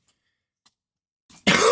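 A single short cough bursts out at the end after near silence, close and moderately loud, preceded by a faint breath.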